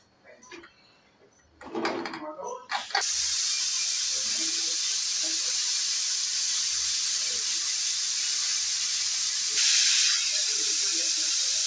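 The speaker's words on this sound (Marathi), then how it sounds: "आता आपण याच्यात 3 शिट्ट्या करून घेऊ" Pressure cooker on a gas stove cooking masala rice lets out a loud, steady steam whistle, a long continuous hiss that swells briefly near the end, after a few seconds of quiet kitchen clatter.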